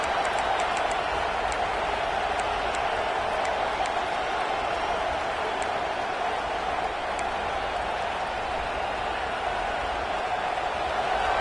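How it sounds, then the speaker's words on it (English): A fired-up football stadium crowd at a Tigers versus Canes game roars in a steady, dense wash of cheering and noise that holds loud and unbroken throughout. "this crowd is fired up. Listen to this noise here"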